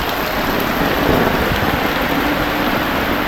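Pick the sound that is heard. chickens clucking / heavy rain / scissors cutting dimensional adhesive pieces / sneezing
heavy rain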